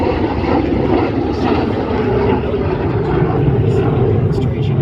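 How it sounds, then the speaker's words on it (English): A Soviet MiG-17F jet fighter, one of the first combat fighters with an afterburner, flying at an airshow, producing a loud, steady broadband engine roar that runs the whole time with no break. "an airplane that was one of the first combat fighters in place to feature an afterburner"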